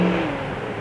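A 1967 Chevrolet Malibu's deep exhaust rumbles steadily as the engine pulls under acceleration, a brief low drone heard up close.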